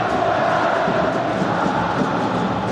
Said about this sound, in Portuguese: Nesse momento quem grita é a torcida do Botafogo.